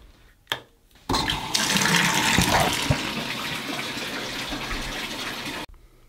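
Water runs from a shower, starting abruptly after a couple of faint knocks and pouring in a steady loud hiss for several seconds before cutting off.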